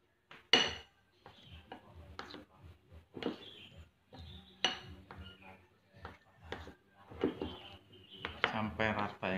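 Tofu ball dough being stirred in a bowl, a run of irregular utensil scrapes and clinks against the bowl, close and fairly clear, with brief pauses between strokes.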